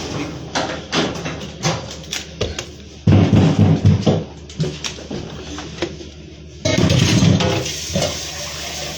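Water running in a household, gushing in two louder bursts amid intermittent clattering and movement, with quieter flowing between them.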